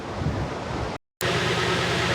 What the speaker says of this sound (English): It's got its windsock on, and it's really windy out